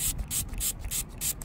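Short repeated bursts of spray from a bottle misting a freshly dug metal detecting hole in the soil, five or six quick hissing pumps in a steady rhythm, close and clear.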